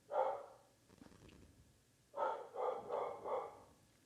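A dog barks once, then after a pause lets out three quick barks in a row, moderately close in an otherwise quiet room.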